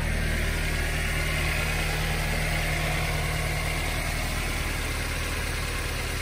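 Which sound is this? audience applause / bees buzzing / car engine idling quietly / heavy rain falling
car engine idling quietly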